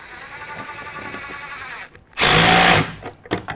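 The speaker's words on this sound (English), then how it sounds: "Tighten your clamp down." A power driver whirs in one loud, sustained burst of about half a second while tightening a satellite dish mount clamp on a metal roof seam, preceded by a quieter mechanical hum and followed by a few short clicks.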